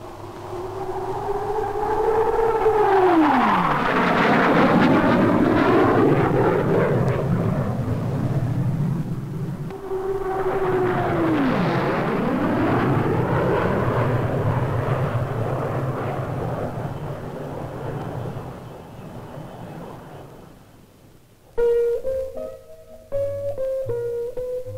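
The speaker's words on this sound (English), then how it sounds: "The Vickers Supermarine Swift is also on super priority order for the RAF." A Vickers Supermarine Swift jet roars past at the 1952 Farnborough air show, loud and close, in two sweeping passes whose pitch drops as the aircraft goes by. Shorter, sharper tonal sounds follow near the end.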